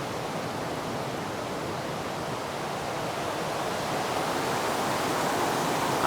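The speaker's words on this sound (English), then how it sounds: "how the sound of this particular river might have affected you" A fast-flowing river rushes in a steady, dense broadband roar, close and loud, holding constant for several seconds with no voices over it.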